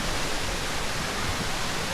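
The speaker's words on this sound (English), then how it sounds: "The waterfall isn't tall, just a wide, calm stream over rocks" Wide, calm waterfall spreading as a shallow stream over rocks at Ton Sai in Phuket, Thailand, a steady even rushing wash with no voices.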